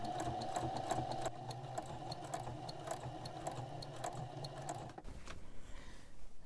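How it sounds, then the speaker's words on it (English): A sewing machine runs steadily, edge stitching around three sides of an apron pocket, with a constant near whir and fast needle rhythm that stops abruptly near the end, leaving faint handling noise. "I'm just going to edge stitch all around the 3 sides of the pocket."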